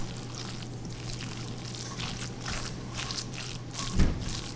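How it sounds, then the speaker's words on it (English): A spoon stirs a cheese and seasoning mixture in a bowl, soft repeated wet scraping and squishing up close under a steady low hum, with one louder knock near the end. "we're gonna stir this up in one bowl"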